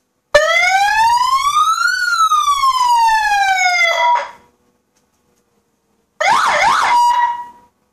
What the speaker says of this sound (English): the first two were like an ambulance and a police car. That one's like a construction road.